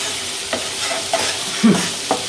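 Spice powders roast in a pan for a bread upma, a loud steady sizzle with a few scraping strokes of a spoon stirring through them.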